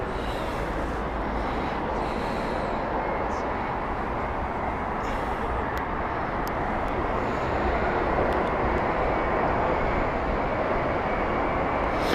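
A Virgin Atlantic Boeing 787-9 at Heathrow Airport gives a continuous loud jet-engine roar. The broadband rumble holds steady throughout and swells slightly toward the end.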